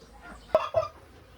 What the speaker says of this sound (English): We got 3 broody hens.